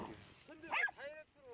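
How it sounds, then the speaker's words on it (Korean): A two-year-old poodle tied inside a sack left beside a roadside whimpers and gives short, pitiful yips and whines, muffled and moderately close, with a brief voice near the start. "겹겹이 묶인 매듭을 풀려고 하자 애처롭게 개 짖는 소리가 들립니다"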